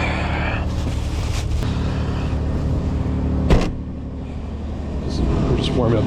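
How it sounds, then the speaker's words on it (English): A 2005 Toyota Highlander's 3.3-liter V6 idles while warming up in a 27°F winter storm, a steady low engine hum with brief clicks and a sharp knock partway through; a voice speaks briefly over it. "We're just warming up the car."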